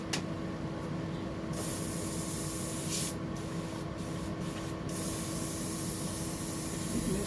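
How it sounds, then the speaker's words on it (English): An airbrush spraying paint onto a deep-diving fishing lure, sharp close hissing bursts starting and stopping several times over a constant background hum. "airbrush"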